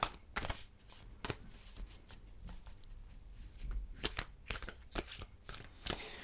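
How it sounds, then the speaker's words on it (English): Oracle cards from an animal spirit deck being shuffled by hand, a close run of soft riffling and slapping card sounds in quick bursts, alone without talk. "So these are Colette Baron Reid's beautiful Animal Spirit Oracle cards"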